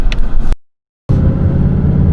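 A Ford Mustang GT engine in Sport Plus mode, a loud deep rumble that cuts out abruptly for half a second and then returns as a steady, held low drone, close and with no talk.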